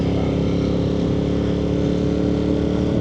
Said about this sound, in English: It's fitted with a SE Project slip-on with no baffles in at the moment, and yeah, it's really fucking loud.